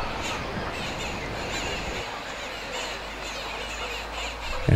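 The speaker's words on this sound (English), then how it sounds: "a whole flock of glossy starlings" Harsh, raucous alarm calls from a flock of glossy starlings and go-away birds overlap continuously at moderate distance, forming a noisy chattering racket.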